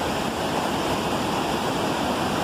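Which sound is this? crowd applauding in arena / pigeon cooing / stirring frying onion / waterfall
waterfall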